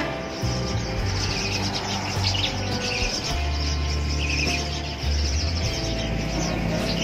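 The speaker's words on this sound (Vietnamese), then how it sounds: "nói chung là các loại chim" Caged songbirds at a busy bird market in southern Long An, Vietnam, a dense chorus of overlapping chirps and trills over a low rumble of traffic and crowd noise.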